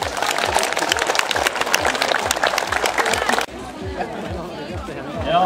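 Outdoor spectators at a hill-running race prize ceremony applaud the winners, with dense clapping mixed with crowd chatter and voices before the sound cuts abruptly to quieter talk.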